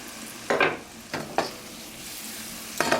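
Red onions, scallions, peppers and fennel stalk sauté in a hot pan, a few short bursts of sizzling and stirring rising over quiet gaps, close by with no talk.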